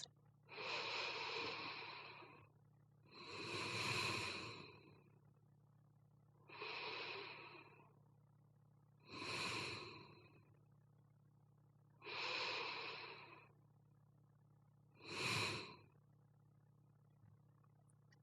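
Slow guided breathing during a stress-relief exercise: six long, even breaths, inhales and exhales alternating at a calm, steady pace every few seconds, close and soft over a faint low hum.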